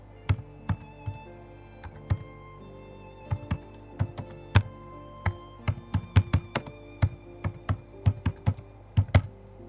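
Keystrokes on a computer keyboard as a search term is typed into a browser search bar: a quick, irregular run of close, crisp clicks and taps, heard alone with no talking.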